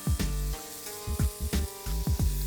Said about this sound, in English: Once they're sizzling